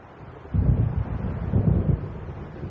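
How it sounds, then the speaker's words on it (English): Approaching storm in Alan Wake Remastered, a low rumbling swell of thunder and wind rising in two heavy surges over a dull background roar. "It seems there's a storm coming."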